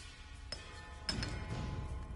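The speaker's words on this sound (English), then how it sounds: "Knock on the walls with the hammer and chisel and look for a weak spot" Hammer and chisel tapping a rock wall in a volcanic tunnel in the video game ESO, giving sharp metallic clinks, a light tap and then two stronger knocks in quick succession, with a faint ringing tail that lingers over low background ambience.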